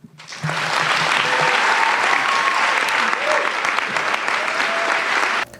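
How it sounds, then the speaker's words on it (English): A standing audience gives Malala a round of applause after her speech on education, a loud, dense, sustained roar of clapping that swells quickly, holds steady and then cuts off, with faint voices mixed in. "Everybody standing up and giving a round of applause to this champion."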